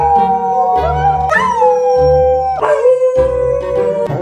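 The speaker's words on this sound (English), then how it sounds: "Howling." A Corgi howls in long, wavering tones, several drawn-out howls one after another, close and loud with no talking.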